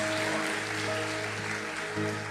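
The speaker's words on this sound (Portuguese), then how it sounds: "os que podem, tomem o seu assento aplaudindo a Jesus, porque Ele é bom" A church congregation applauding, a steady wash of clapping that fills the room evenly throughout, with a sustained musical hum beneath it.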